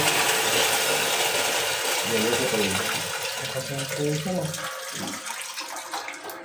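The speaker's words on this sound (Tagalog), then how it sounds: "Ano ba kasi ito malakas ang tubig?" Strong water flow pours from a deep well G.I. pipe in a loud, steady rushing spray, gradually easing slightly, while people talk over it.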